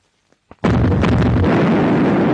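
Main gun of the battleship HMS King George V firing in 1942: a couple of small clicks, then a huge, close boom that roars on as a sustained rumble.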